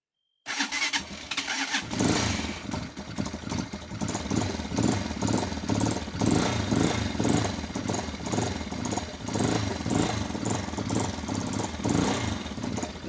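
A motorcycle that has had a problem with its idle hanging high cranks briefly, then fires up and settles into a loud, steady idle with a continuous rough engine rumble close by.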